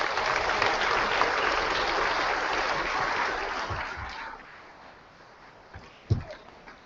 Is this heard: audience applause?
yes